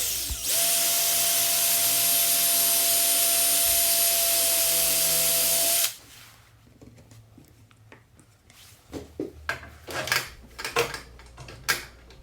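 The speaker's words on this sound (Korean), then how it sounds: "가벼운 9T짜리 자작나무 합판을 사용하여 측면에 심지 구멍을 뚫어줍니다" A power drill bores side holes in a light 9 mm birch plywood lid with a loud, steady high whine for about six seconds, then stops, followed by scattered knocks and handling clatter.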